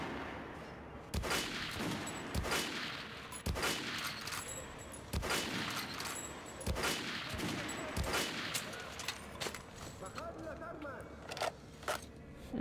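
Gunfire from the video game Metro: Last Light rings out in repeated sharp shots, roughly one per second, loud and close, with a short metallic clatter near the end.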